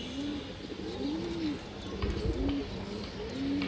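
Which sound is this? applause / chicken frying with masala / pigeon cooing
pigeon cooing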